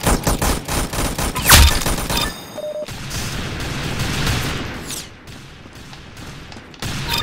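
Rapid gunfire in the Roblox Arsenal shooting game, a dense burst of shots up front, then a brief pause and scattered shots and booms over a rumbling game background.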